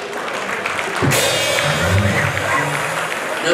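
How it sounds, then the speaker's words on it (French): Applause from an audience at a televised awards night in Congo breaks out suddenly after about a second, a dense wash of clapping that continues steadily to the end. "On applaudit s'il vous plaît"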